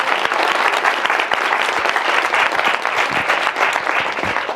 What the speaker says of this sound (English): So let's give Beth a big round of applause